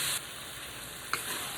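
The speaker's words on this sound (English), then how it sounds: "the beef, the broccolini, the onions, and the sauce all in here cooking right now." Beef, broccolini, onions and sauce cooking together in a pan, a steady, moderate sizzle with a brief sharper burst near the end and no voices.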